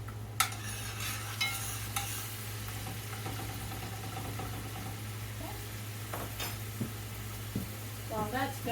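Onion frying in a pan gives a soft, steady sizzle under a low constant hum, broken by occasional stirring clatters and scrapes at close range.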